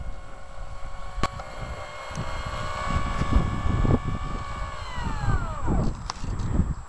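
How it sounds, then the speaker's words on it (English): A twin 70mm electric ducted fan A-10 model jet on a 6S battery runs up outdoors, a thin whine of rising and falling tones over wind rumble, moderately close. "That was a taxi test and motor run-up of the LX models, twin 70mm A-10 electric ducted fan, running on a 6S battery"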